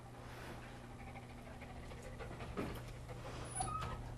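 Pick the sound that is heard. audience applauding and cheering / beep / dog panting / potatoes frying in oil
dog panting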